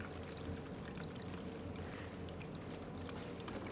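Blue coolant pours and trickles steadily from disconnected transmission cooler lines on a Honda Civic during an engine swap, a continuous close splashing stream with no talk.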